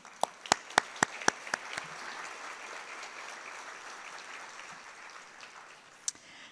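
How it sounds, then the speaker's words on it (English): Applause from a conference audience at an energy event's opening session, beginning with a few loud, distinct claps that quickly merge into a steady, moderately distant wash of clapping lasting several seconds, with one sharp clap near the end. "please stand so we can offer applause"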